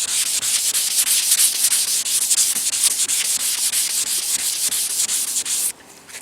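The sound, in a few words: wet sanding car body panel with 400-grit sandpaper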